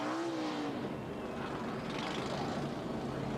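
A loud, buzzing ARCA stock car engine at Pocono with a faulty exhaust lead drones steadily at close range, its rough, lawnmower-like exhaust note holding for a few seconds with no voices.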